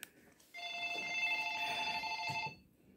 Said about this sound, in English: I'm not going to answer my phone.